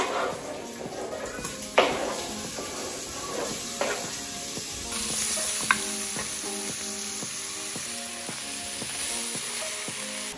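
Onion cooking gently in a pan gives a steady soft sizzle with occasional louder pops and spatters and faint clinks of a utensil stirring, continuous throughout with no talking.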